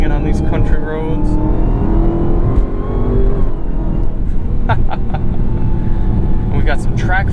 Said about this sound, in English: We're going to talk about this car a bit, continue driving it around, romping it on these country roads.